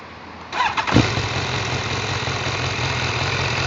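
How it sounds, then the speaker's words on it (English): A 2020 BMW S1000R motorcycle engine cranks with a short starter whir, fires loudly up close, then settles into a steady, even idle rumble that continues to the end. "Just start the bike up."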